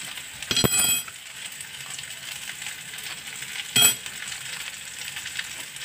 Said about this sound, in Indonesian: Kita masukkan tempe. Terus ini kita masak.